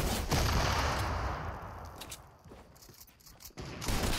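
Gunfire in the video game Fortnite, a dense burst of shots and clattering at the start that thins out into scattered sharp cracks, then a renewed loud flurry at the end, with no talk.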